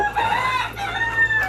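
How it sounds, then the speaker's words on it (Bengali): A native desi rooster crows loudly and close by at a backyard hobby poultry farm, one sustained, wavering call carrying through the whole moment with no voices over it. "এই হচ্ছে দেশি মোরগ"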